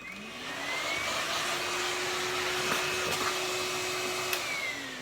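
A Numatic Henry Cordless vacuum cleaner with a turbo brush runs with a steady, loud motor whine. Its pitch rises slightly as it spins up and holds steady, with no talk over it.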